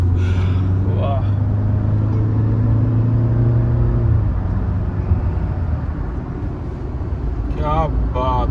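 An SUV cruising on the road, a steady low engine and road rumble with interior hum, as a voice speaks briefly over it.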